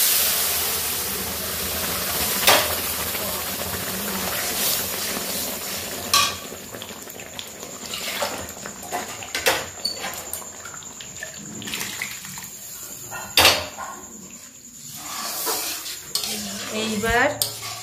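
Boiled lentils poured onto fried spices in a cooking pot and stirred, giving a loud steady sizzle with wet splashing and repeated scrapes and clinks of a spoon against the metal pot, heard up close without any talk.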